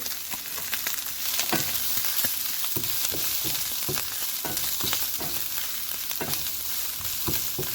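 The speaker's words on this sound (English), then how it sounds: "add in green onion, about 8 green onions or spring onions that you slice, and then stir it again" About eight sliced green onions stir-fry in a pan for a shrimp and Chinese cabbage stir fry: a steady, close sizzle punctuated by frequent sharp scrapes and taps of a spatula against the pan.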